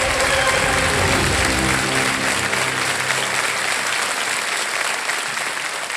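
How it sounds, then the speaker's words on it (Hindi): Studio audience on the KBC quiz show bursts into loud, sustained applause, a dense roar of clapping that continues throughout, with a low hum underneath early on. "तो एक बार फिर जोरदार तालियां"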